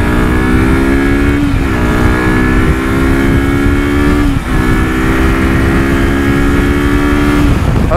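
A Kawasaki Versys X 300 motorcycle pulls away hard and accelerates, its high engine note rising steadily through the gears with two brief dips at the shifts, loud and close throughout.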